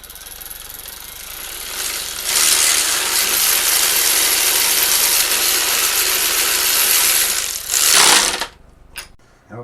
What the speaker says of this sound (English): we're going to pop the spark plug back in, or as Derek would say, sparkulator.